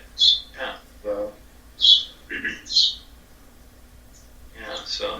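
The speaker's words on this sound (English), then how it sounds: "so you brought your bird" A pet bird gives several short, bright chirps and calls, spaced irregularly and close by, in a quiet room.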